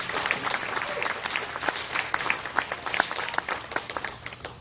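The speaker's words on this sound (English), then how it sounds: "Give her a round of applause." An audience claps enthusiastically, many hands applauding at once in a dense, lively burst that holds steady throughout.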